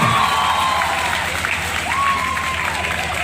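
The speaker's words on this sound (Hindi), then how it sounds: "उनके लिए तालियां हो जाए" A crowd claps continuously at a school's silver jubilee celebration, a broad wash of applause with some cheering mixed in and a faint tonal whine gliding through the background.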